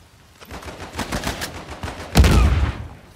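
Rapid gunfire in a video game, a burst of quick shots followed by a louder, heavier blast, moderately close and heard without talk.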